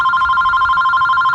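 A steady, loud electronic ringback tone purrs with a fast warble and no pauses.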